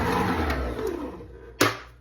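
A beaten egg, milk and melted Crisco for donut batter are mixed until blended, giving a steady close whir that fades before a single sharp knock near the end and quiet after.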